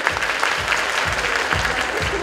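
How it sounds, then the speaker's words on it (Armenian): A large audience at a radio station's launch event applauds loudly and continuously, with a low rhythmic thump pulsing beneath the clapping. "Ծափերը շատ են, ես գալիս եմ։"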